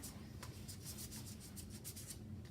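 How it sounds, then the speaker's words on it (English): Sandpaper rubbed over a steel plate being cleaned for saltwater etching, a quiet run of quick, rhythmic scratchy strokes, about a dozen in steady succession, close and without speech. "I'm going to go over this with sandpaper, okay? So I'm going to sand this."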